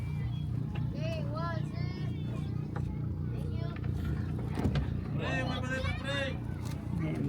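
A motorboat engine runs steadily through a boat ride in Siargao, a continuous low droning hum, with several people talking over it throughout.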